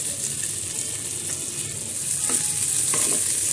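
Chopped onion sizzles steadily in a pan for a kebab snack made with kabuli chickpeas, a constant bright frying hiss with soft stirring clicks near the end, close and alone without talk.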